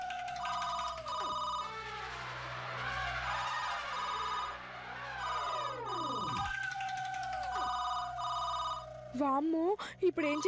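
A telephone rings repeatedly in a Telugu TV serial scene, a steady electronic trill in regular bursts over swooping dramatic sound effects and a low background hum.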